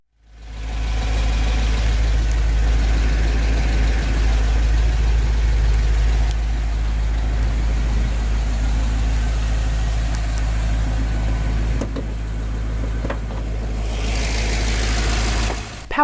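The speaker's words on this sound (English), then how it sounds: "Powering the GTO is GM's LS2 6-liter naturally aspirated V8 engine." A 2006 Pontiac GTO with GM's LS2 6-liter naturally aspirated pushrod V8 idles steadily, a deep, even rumble that holds for the whole stretch, close and loud, with no talking.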